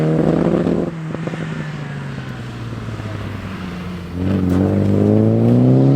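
A classic Triumph rally car on a wet circuit at Oulton Park: an engine drones past with a falling pitch, eases off, then revs up hard again with rising harmonics, fairly close and steady, no talking.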